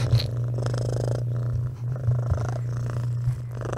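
Close, steady cat purring with a continuous rumbling rhythm throughout, loud and right next to the listener, as the cat plays with the microphone.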